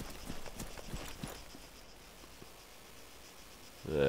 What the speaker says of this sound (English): it's like a goat or something.